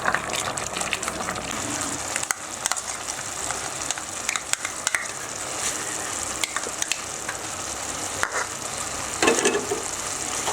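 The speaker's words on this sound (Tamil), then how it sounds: "நல்லா இப்படி கிளறி விடுங்க. இன்னும் ஒரு 5 நிமிஷம் நல்லா கொதிக்கவும்" Vermicelli kichdi bubbles in a pan on the stove while it is stirred, giving a steady sizzling, bubbling hiss with scattered scraping clicks throughout and no talking.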